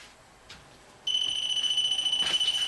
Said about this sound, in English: There's a bell for you.